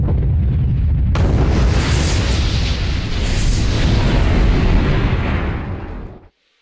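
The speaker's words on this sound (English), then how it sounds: "he set off the bomb to see if it would work" A huge bomb explosion: a deep, continuous booming roar that bursts in abruptly, rumbles loudly and evenly for several seconds, then fades and cuts off.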